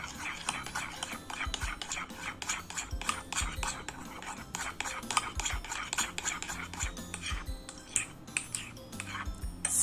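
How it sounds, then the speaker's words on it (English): Clear slime made of glue, hand soap and baking soda is stirred in a bowl, giving repeated wet squelching, scraping strokes in an uneven rhythm, up close and fairly soft. "Just keep on mixing so that everything is mixed, the hand soap and baking soda as well."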